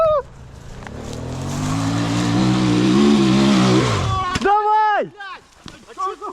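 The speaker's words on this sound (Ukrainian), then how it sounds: "А чого ти заглох? Ти скинув газ." A Rottor Bronx 300 motorcycle engine revs and climbs in pitch for several seconds, then cuts out abruptly as it stalls, followed by excited shouting voices close by.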